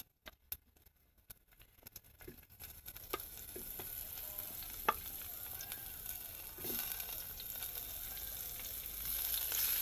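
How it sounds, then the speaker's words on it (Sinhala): Dried salted fish frying in hot oil in a cooking pot, a steady sizzle that builds after a few sharp crackles and pops at the start, close and continuous with occasional louder spits. "ඒක රත් වුණාම අපි ඉස්සෙල්ලම ඒකට දාගමු කරවල ටික."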